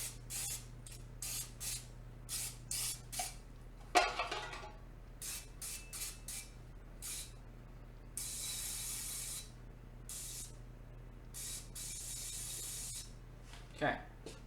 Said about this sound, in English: We get a bit of a spray here to coat the pan.